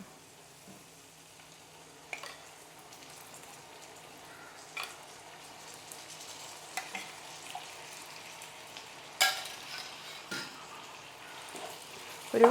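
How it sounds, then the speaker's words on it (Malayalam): Coconut milk meets melted jaggery in a pan, giving a soft, steady sizzle with occasional sharper clinks of stirring that stand out against the quiet bubbling. "ഇപ്പം തന്നെ ശർക്കര ഉരുക്കി. അപ്പോൾ ഇതിനകത്തോട്ട് വെള്ളമയം വരാനായിട്ട് കുറച്ച് തേങ്ങാപ്പാൽ ചേർത്ത് കൊടുക്കാം."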